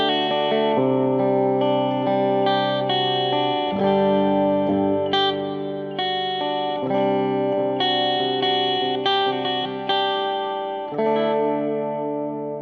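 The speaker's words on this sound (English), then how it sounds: "I'm going to start from the bridge pickup and work my way warmer in the clean channel" A PRS SE Studio electric guitar plays through the clean channel on its bridge pickup, with ringing strummed chords and picked notes that sustain and overlap, bright and forward with no talk.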